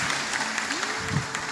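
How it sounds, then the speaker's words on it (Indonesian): Applause from an audience at an Islamic religious gathering with kiai present, a dense, steady patter of many hands clapping for a speaker, fairly loud and continuous throughout. "Ya, tepuk tangan buat beliau."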